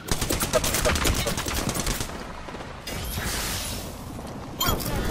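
Rapid automatic gunfire from the Apex Legends video game crackles in close, dense bursts, pausing briefly before another volley breaks out near the end.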